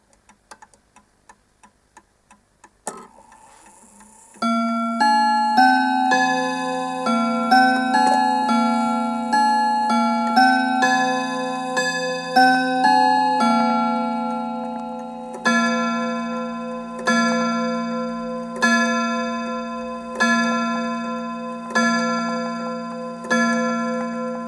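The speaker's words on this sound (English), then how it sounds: "you can hear that beautiful tick" An Anville Westminster clock with a Perivale movement ticks steadily and clearly with no talk, its even tick continuing alongside a ringing chime melody of bright, layered tones.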